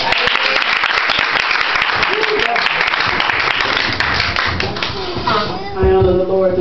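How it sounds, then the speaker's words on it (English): Dense, steady applause from a church congregation fills the clip, with voices rising underneath toward the end. "To the Lord a hand clap."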